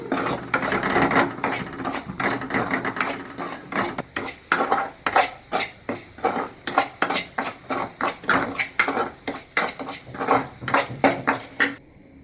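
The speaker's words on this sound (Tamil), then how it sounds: "கேஸை லோ ஃப்ளேமில் வச்சுட்டு வறுத்து எடுத்துக்கலாம்." Semolina being stirred and roasted with a little ghee in a pan over a low gas flame, a steady run of close, rhythmic metal scrapes and clinks from the spoon against the pan, loud and alone without talk.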